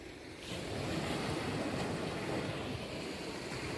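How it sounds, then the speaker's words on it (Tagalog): Sea waves wash onto the shore in a steady, broad roar mixed with wind buffeting the microphone, continuous and moderately loud throughout. "Yan ang dagat"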